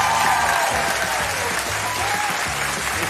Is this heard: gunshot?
no